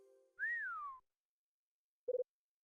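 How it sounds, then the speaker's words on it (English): Someone whistling in Hotel Dusk: Room 215, one clear rising-then-falling note held for about half a second, followed after a pause by three quick short tones, fairly faint against silence. "Somebody's whistling."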